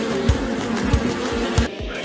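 A toy bee buzzes in a steady, close drone among toy trucks, excavators and trains, with short repeated pulses that rise and fall about five times.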